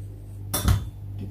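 A kitchen knife cuts through a fresh mango for a cake's mango purée, giving one brief, close chopping knock against the board amid an otherwise quiet room.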